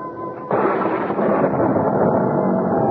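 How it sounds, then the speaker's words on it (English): An enormous thunderclap in a radio drama, which bursts in suddenly and loudly, then rolls on as a dense, sustained rumble with no voices over it. "I was startled by an enormous thunderclap, followed by the wrenching split of wood."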